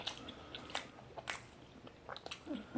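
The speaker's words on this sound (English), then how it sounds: "some of that meat that I'm chewing on" Close, quiet wet chewing of tough smoked barbecue brisket, with irregular soft bites and small squishy crunches, no talking.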